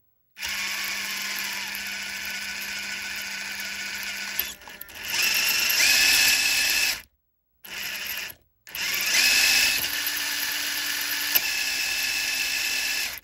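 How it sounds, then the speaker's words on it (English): Power driver threading a screw into an RC Unimog build, a loud high-pitched whirring buzz that runs in several bursts with short pauses and pitch shifts as the screw seats. "we'll take the screw and just go and thread it in"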